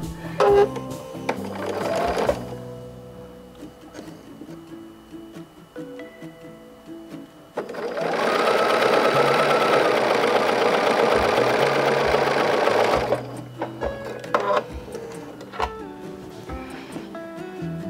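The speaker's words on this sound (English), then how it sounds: "I forgot to sew the sides together." A sewing machine stitches the sides of a quilt block, running in a loud steady burst of about five seconds with shorter whirring runs before it and scattered handling noises around it.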